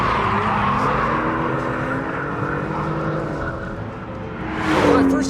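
A 2018 BMW M2 slides through a corner, its engine note droning steadily while a rising tire squeal swells loudly near the end of the skid.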